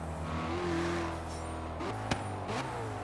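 A car in the racing game Forza Horizon 3, set up as a drift build, revs its engine hard, the note rising and falling with brief throttle blips and a sharp snap near the end, loud and up close.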